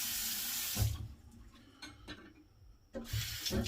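A bathroom tap runs water to rinse a razor, with a splashing stream that is interrupted briefly mid-way and then resumes, close by and fairly loud.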